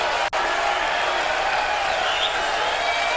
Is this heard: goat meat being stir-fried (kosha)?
no